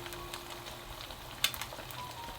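Eggs fry in a pan over medium-low heat, giving a soft, steady sizzle with scattered small crackles and pops, faint and close up.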